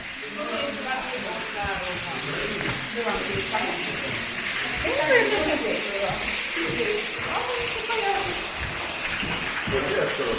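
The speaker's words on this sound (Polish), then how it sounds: "Duży wodospad." Broad steady rush of a large waterfall in the Adršpach rock town, continuous hiss of falling water throughout with people talking over it nearby.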